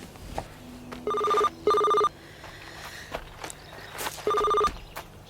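A telephone rings in three loud electronic bursts, two close together and one after a pause, with faint footsteps and walking sounds in between as people head toward a car.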